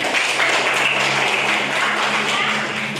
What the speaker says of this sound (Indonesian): kita beri aplaus dengan 2 pertanyaan tadi